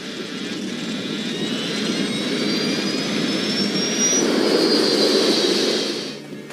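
Airliner jet engines spooled to maximum thrust during a go-around in stormy weather, a loud continuous roar with a rising whine that builds steadily and holds near, with no talk.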